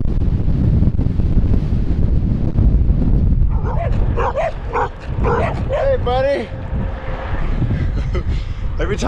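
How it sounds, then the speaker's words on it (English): Dogs at a rural house in New Mexico charge a passing bikepacking cyclist, barking and yipping in a burst of close, excited calls over rushing wind noise after a few windy seconds. "Every time I ride by a house, the dogs come charging."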